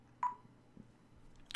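Electronic phone tones from the game Subnautica: a short bright beep near the start, then a fainter second tone and a quick high blip at the end, quiet and alone.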